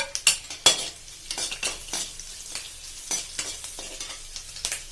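Chopped ginger, garlic and green chillies fry in a pan while making paneer Manchurian, with a steady close sizzle and repeated scraping stirs of a spoon against the pan.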